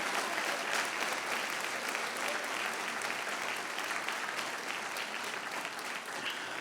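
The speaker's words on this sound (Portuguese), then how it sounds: "Aplauda forte." Audience at a Quadrangular church service applauds strongly: steady, dense clapping from many hands throughout, even and sustained, heard from some distance.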